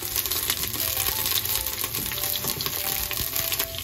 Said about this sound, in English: Saute the onion until it's